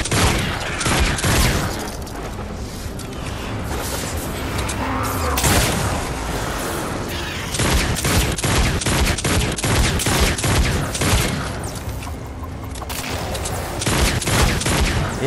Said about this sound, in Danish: Lad være med at skyde på min væg.